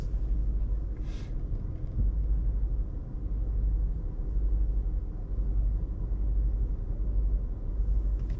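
A 2018 Honda CR-V EX with a 1.5L turbo engine idles in traffic on I-95, a low, steady engine rumble heard from inside the cabin, even and unbroken throughout.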